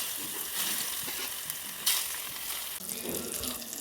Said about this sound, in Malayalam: അപ്പോൾ ഇത് പപ്പടം വറുത്തിട്ട് ആ എണ്ണയിൽ തന്നെ നമ്മൾ മീനും